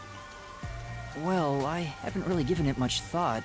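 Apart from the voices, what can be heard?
rain falling in Rain Code video game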